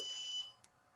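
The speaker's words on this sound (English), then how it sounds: "Sorry for the buzzer, I can't." An electronic buzzer in a home-built IoT setup gives a shrill, steady high-pitched tone for under half a second, then stops, followed by faint clicks in a quiet room.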